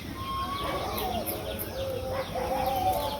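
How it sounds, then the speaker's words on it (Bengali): Chickens cluck and call with warbling, rising notes at a rural home where grain is laid out as chicken feed; the calls are moderately close over steady background noise. "মুরগি দেখাও, দেওয়া কত সুন্দর মুরগি।"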